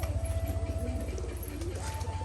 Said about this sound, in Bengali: তো এই হচ্ছে আমার পায়রাগুলো